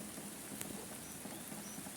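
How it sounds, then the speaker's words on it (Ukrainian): Rain falls in a spring garden among tulips and roses, a faint, steady patter with a few soft drops standing out. Nobody speaks over it. "Дощ іде, тікатиму."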